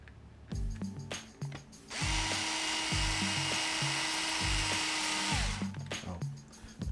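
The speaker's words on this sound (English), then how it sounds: "when I'm tightening stuff up, my screwdriver has a clutch on it" A cordless screwdriver with a clutch drives screws into plastic RC truck differential parts, with a sustained high whir from about two to five and a half seconds between short clicking bursts of the clutch ratcheting, close and loud.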